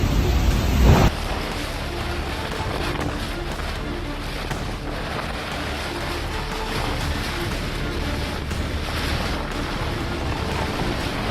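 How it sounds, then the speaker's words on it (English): Massive ocean waves smash into a boat's passenger area, shattering glass windows and flooding inside: a sharp loud burst for the first second, then a steady, dense roar of churning water and wind. "massive waves suddenly crashed in, shattering all the glass windows and flooding straight into the passenger area"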